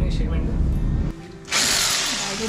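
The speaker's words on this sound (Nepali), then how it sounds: "ड्रिल गर्न लाग्नु भयो" A power drill bores holes into a wall to fit a TV wall mount. A short mechanical whir is followed by a loud, bright, steady drilling burst, with a voice heard nearby.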